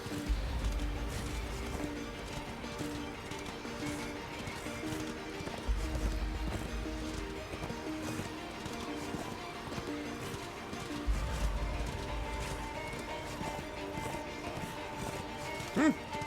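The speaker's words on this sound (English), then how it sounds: "Let's ride on horseback to get the horse back." Rhythmic clip-clop of galloping horse hooves in the video game Darksiders II: Deathinitive Edition, over a steady game backdrop of music and ambience, repeating in quick bursts throughout.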